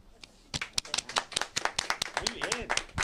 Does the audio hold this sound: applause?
yes